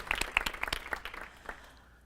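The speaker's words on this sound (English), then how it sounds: "Let's give him a round of applause." A small audience claps in a loose scatter of distinct hand claps, bunched at first and then thinning and fading away within about two seconds.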